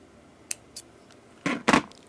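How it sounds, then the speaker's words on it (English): Small scissors snipping thread for a handmade beaded necklace: two light clicks followed by two louder, close snips in quick succession, with no talking. "And now I will cut the thread"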